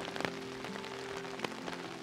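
Steady rain falls on a forest trail in the Ouachita National Forest's Richardson Bottoms Wildlife Viewing Area, a dense patter with scattered sharper drip hits, nearby and moderately quiet.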